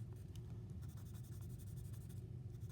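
Pen scratching across paper while writing a fraction, a run of soft close strokes over a steady low rumble in the room.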